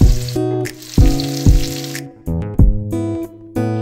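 Capsicum is stir-fried in a pan, loud sizzling with sharp clattering strikes of the utensil against the pan recurring every half second or so.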